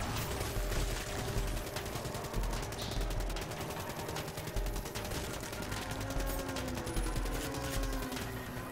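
A minigun in the Call of Duty: Black Ops III Dead Ops mode fires in long, unbroken rapid bursts, loud and continuous with other game effects layered under it.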